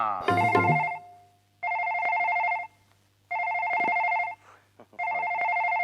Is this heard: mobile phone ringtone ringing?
yes